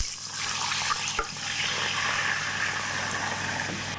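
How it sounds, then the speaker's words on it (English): Beef stock pouring into a pot for beef bourguignon, a steady liquid rush that runs the whole time over a continuous kitchen background. "Good beef stock goes in it."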